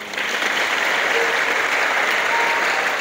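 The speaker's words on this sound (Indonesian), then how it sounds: "Tepuk tangan untuk beliau." An audience at a motivational seminar for Islamic school students applauds an ustadz, a dense, even wash of crowd clapping held at a steady level throughout.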